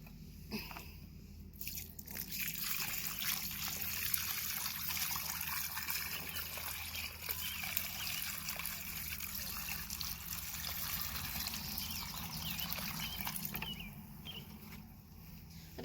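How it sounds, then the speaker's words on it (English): Water poured onto the soil around a newly planted fruit tree, a steady trickling and splashing that runs at an even level for most of the stretch. "finish off with some water and then mulch"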